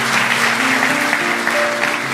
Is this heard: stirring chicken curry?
no